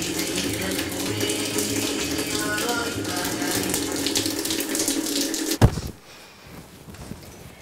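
Water running steadily from a household tap into a sink, a continuous splashing gush that suddenly cuts off near the end, leaving quieter room sound afterward with little talking.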